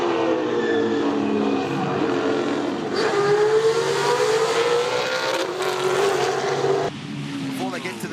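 Muscle cars, including a Chevy Camaro, race around Mount Panorama at Bathurst in October 2016. Several loud engines roar continuously and swell as cars accelerate and pass, with a commentator talking over the noise.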